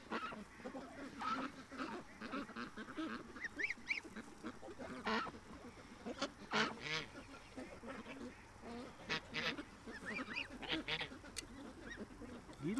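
A goose gives a string of small, squeaky honks and quacks at close range, irregular and fairly soft, with faint background noise and some activity around it.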